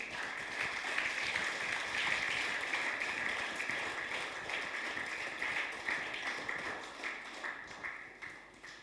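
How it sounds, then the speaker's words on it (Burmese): An audience at a camp gathering claps for parents, a steady dense wash of applause that holds for several seconds before thinning slightly at the end. "လက်ခုပ်တီးပါကိုမိဘများအတွက်"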